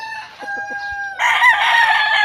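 A Raptor Sweater gamecock rooster gives a loud, close crow: a few short clucking notes, then a rising, strained call that holds to the end.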